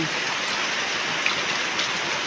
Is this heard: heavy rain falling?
yes